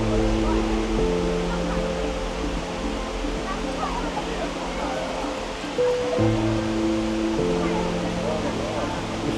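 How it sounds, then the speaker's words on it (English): The world's tallest indoor waterfall in the Cloud Forest roars in a steady, wide wash of falling water, while sustained tonal drones sit over it and shift partway through. "Welcome to the Cloud Forest. It's the world's tallest indoor waterfall."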